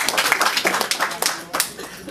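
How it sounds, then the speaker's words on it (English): Audience at a business presentation clapping in bursts of uneven claps, close and fairly loud, with voices calling out over the applause. "Please give yourselves a round of applause."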